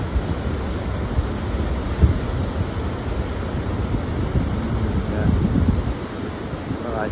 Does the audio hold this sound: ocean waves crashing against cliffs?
yes